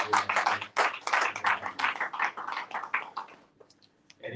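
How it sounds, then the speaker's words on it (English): Audience applause at a youth parliamentary engagement conference in Zimbabwe, a few seconds of dense close clapping in uneven bursts that thins out and fades toward the end. "Can we give them one round of applause as they come to"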